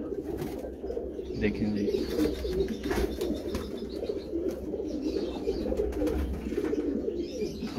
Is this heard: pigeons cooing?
yes